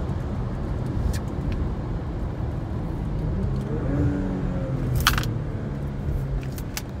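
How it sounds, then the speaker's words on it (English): A 2021 Porsche Macan GTS with a 2.9L turbocharged engine, running a tuning programmer, accelerates with a steady low engine drone that rises in pitch from midway, plus a few brief clicks, alone without talk. "if it's giving us a little more turbo noise too"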